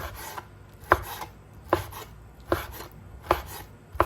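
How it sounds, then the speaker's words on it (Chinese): A knife chopping pork tenderloin into small pieces on a board, five crisp, evenly spaced thuds close by with quiet scraping between them, no speech. "我们准备一块里脊肉，改刀给它切成小块"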